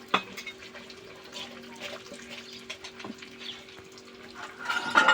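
Soft sloshing and stirring close by as sugar water is poured and mixed, with light clinks and a brief louder clatter at the end.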